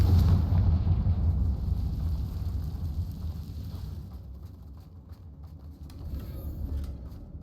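A Confringo blasting spell in a wizard video game goes off as a loud, deep explosion whose rumble rolls on and slowly fades, with a lighter rumble near the end.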